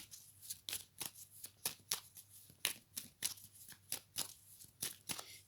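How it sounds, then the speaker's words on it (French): Oracle cards shuffled by hand in a quiet room, a steady run of soft riffling slaps in quick regular rhythm, close and fairly faint. "Alors, je mélange les cartes."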